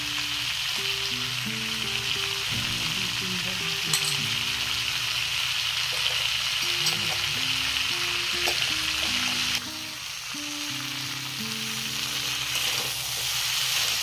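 Cauliflower stalks and potatoes sizzle loudly in a pan, a dense continuous frying hiss with occasional stirring scrapes, dipping briefly in level partway through.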